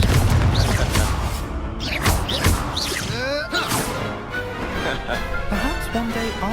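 Confringo blast spells in the Hogwarts Legacy game, several booming impacts and whooshing bursts in quick succession amid layered effects, with a voice casting spells.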